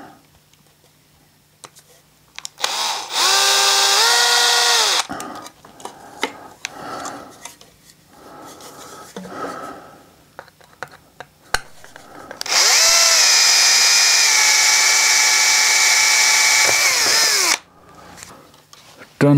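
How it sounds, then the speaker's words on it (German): A power drill with a 3 mm bit whines in two long bursts, spinning up and winding down, with clicks, handling knocks and some quiet talk between the runs. "Ich habe dann hier den 3 mm Bohrer."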